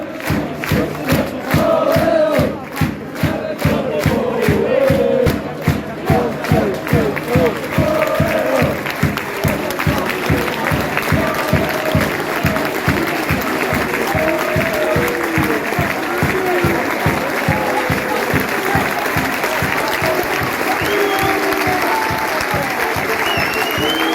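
A football crowd at an away match between Chesterfield and Oldham Athletic roars and jeers throughout, a loud, dense wall of voices with rhythmic clapping or chanting pulses early on.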